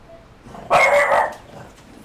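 A single close burst of loud barking from a dog stands out against near-silence, then quickly fades.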